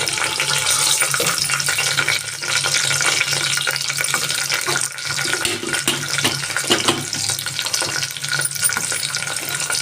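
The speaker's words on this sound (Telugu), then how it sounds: "ఇప్పుడు స్టవ్ ఆన్ చేసి కుక్కర్ పెట్టుకొని ఆయిల్ వేసి కొద్దిగా ఆవాలు జీలకర్ర వేసేద్దాము" Mustard seeds and cumin sizzle in hot oil inside a pressure cooker on a stove, a steady close hiss and crackle that runs continuously with small dips and pops.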